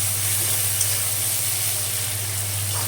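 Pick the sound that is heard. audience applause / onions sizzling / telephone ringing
onions sizzling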